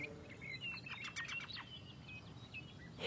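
Birds chirping in a wide field of wildflowers, a faint cluster of quick high tweets around the middle and a few scattered calls later over a soft outdoor background.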